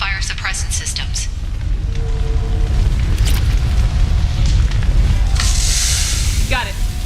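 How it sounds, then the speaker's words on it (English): Damaged pipes burning in Mass Effect, a steady low roar of fire with rumbling booms underneath, close and continuous, while voices speak over it. "these damaged pipes are on fire"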